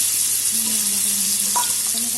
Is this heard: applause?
no